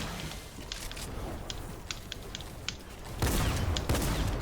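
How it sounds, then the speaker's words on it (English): Gunfire in a Fortnite solo cash cup match: scattered sharp shots crackle through the background, then a louder, denser burst of fire arrives near the end. "Why am I getting shot at in the back, bro?"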